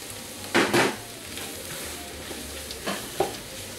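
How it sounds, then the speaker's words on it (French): Spices, garlic and onions frying in a pan for Tunisian ganaouia, with a low steady sizzle under a few louder scraping stirs of a utensil against the pan. "je vais laisser torréfier ces épices avec les oignons pendant 5 minutes environ en remuant constamment"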